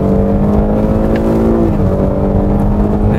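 Steady engine drone from a Cadillac XT6 driven in manual mode along a damp, winding road on Michelin tyres, a loud continuous interior hum with stable harmonics and slight shifts in pitch, no voices.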